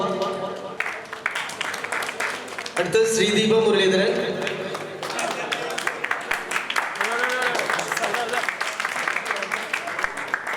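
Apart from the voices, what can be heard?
audience applause at Chelakkara Lions Club Onam celebration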